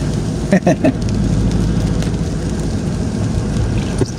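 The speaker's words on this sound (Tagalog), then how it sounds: "Dito maulan." Steady rain pours down outdoors in the Philippines at dusk, a constant close hiss and patter running through the whole stretch, with a few brief louder knocks near the start.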